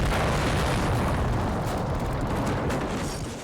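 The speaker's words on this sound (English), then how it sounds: "5 tons of TNT blowing up in multiple delayed explosions" A thick, continuous roar of overlapping explosions from 5 tons of TNT in the real-time strategy game No Man's Land, heavy booms rolling one into the next at close range and fading slightly at the end.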